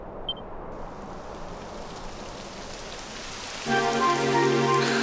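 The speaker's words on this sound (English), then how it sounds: "It would have to go and start raining, wouldn't it?" Rain begins falling in the Dragon Quest XI video game as a steady hiss of drops on a surface, joined a few seconds in by a sustained chord of game music; there is no speech.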